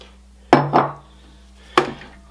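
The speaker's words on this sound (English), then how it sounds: "we're going to go ahead and add 4 eggs to our mixer here" Eggs go into a mixer bowl for cheese tortellini dough, with two sharp clinks and knocks of shell and bowl, the first pair close together and a third after a pause, close and clear with no talk.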